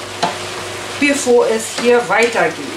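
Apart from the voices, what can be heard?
frying ingredients for a Chinese noodle stir-fry in a pan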